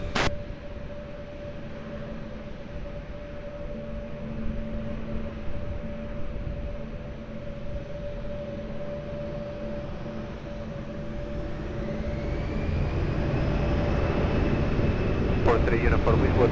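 A jet airliner taking off from Lisbon Airport, a steady distant engine drone with a thin whine that swells louder toward the end, under air traffic radio talk.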